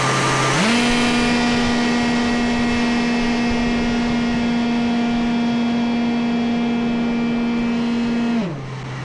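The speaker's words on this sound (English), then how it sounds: "First we're gonna go idle, and then I'm gonna lift." The engine of a quarter-scale radio-controlled 3D-printed hovercraft drones loudly and close up. It idles, then its pitch jumps up and holds steady as the craft lifts, and near the end it drops back down.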